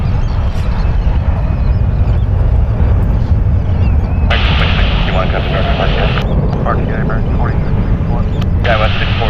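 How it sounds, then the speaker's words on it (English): Jet airliners at San Francisco International Airport, an American jet taking off as an Aeromexico jet lands, heard as a loud continuous broadband engine roar with higher whine rising partway through; a voice talks over the noise. "American just took off as Air Mexico just touched down"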